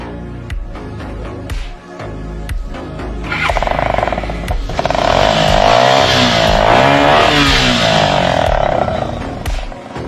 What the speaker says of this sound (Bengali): সাইলেন্সার মডিফাই করছেন কেন?